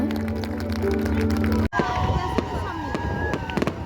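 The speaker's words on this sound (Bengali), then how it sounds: "এত কাছ থেকে আতশবাজি এই প্রথম দেখলাম" New Year fireworks popping and crackling at close range amid crowd noise, with people talking throughout and several sharp bursts.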